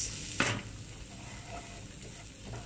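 Onions and cumin seeds fry in butter for a dal gosht, giving a steady close sizzle after a brief loud burst of hissing at the start, with faint stirring scrapes later on.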